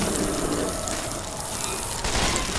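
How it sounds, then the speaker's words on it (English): A weapon is reloaded in the video game Left 4 Dead 2, with quick mechanical clicks and clacks over busy in-game background noise in a short burst. "Reloading."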